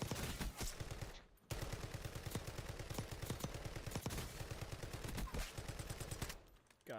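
Rapid, sustained automatic gunfire from a video game weapon with an extended magazine, a dense rattling stream of shots that barely pauses, loud and continuous over game noise.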